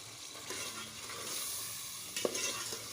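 Masala with turmeric and salt being fried and stirred in a pan for tinda gosht, a soft steady sizzle with occasional scraping stirs and a brief clink near the end.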